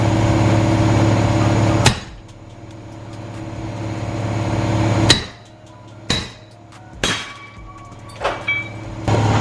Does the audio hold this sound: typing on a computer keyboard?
no